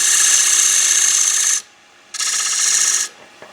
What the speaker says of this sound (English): I'm going to use my skew for getting a crisp edge there.